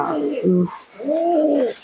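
Two close, fairly loud coos from a Giribaz pigeon, the first lower and throatier, the second a smoother rising-and-falling call after a brief pause.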